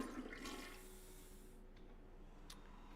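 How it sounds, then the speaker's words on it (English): A toilet flushes in the hospital simulation game Project Hospital, a quiet gurgling rush of water that fades over a second or two and is followed by faint, sparse clicks. "Flush."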